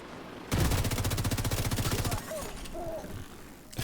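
Rapid automatic FAMAS rifle fire in The Division 2 rattles out in a loud, close burst of about a second and a half, fast and evenly spaced, then fades into softer game sounds.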